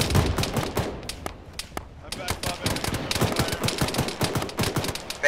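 Video game gunfire crackles in rapid bursts of automatic shots, loud and dense, with a short lull before the shooting resumes, while players talk over it.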